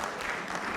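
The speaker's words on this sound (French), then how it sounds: "On peut l'applaudir." Applause fills a hall at a university graduation ceremony, a brief, dense, steady clapping from a seated audience with no voices standing out.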